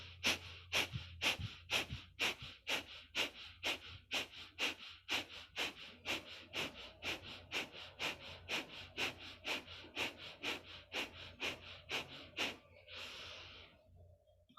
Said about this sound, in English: begin the last round of 30 exhales on your own